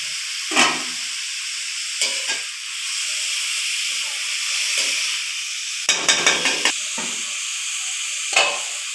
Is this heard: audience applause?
no